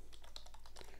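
Computer keyboard typing a ChatGPT prompt, a quick run of five or six soft clicking keystrokes, close and quiet with no voices.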